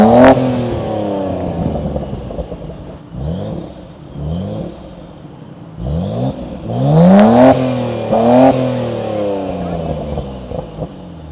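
A Nissan R34 GTR with an aftermarket exhaust revs repeatedly up and down, each blip rising sharply and falling back, close and loud, with people talking now and then.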